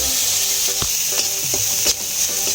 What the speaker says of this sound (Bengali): একটু হালকা ভেজে নিচ্ছি এটা আমি।